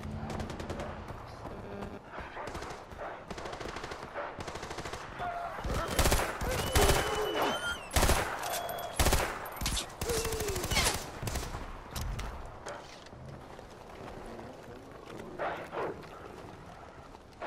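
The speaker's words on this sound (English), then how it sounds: "Why do they have gunfire immediately?" Video game gunfire in Far Cry 4 erupts in loud rapid bursts and volleys, sharp cracks piling up mid-clip, then thinning out amid background game noise.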